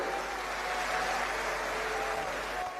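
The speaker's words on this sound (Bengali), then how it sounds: "সমস্ত নেতৃত্বকে একবার জোরে হাততালি দিয়ে আপনারা সবাই বরণ করে নেবেন" Audience applause welcoming party leaders at a BJP workers' conference in Kolkata: a steady, dense wash of clapping from a large crowd, sustained evenly for the whole stretch with no voices standing out.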